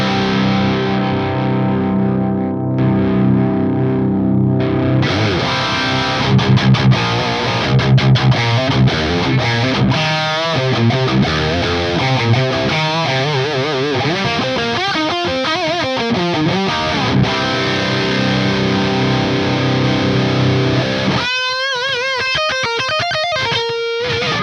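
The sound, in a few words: electric guitar through FAS AX8 5153 amp model, 100 watt mode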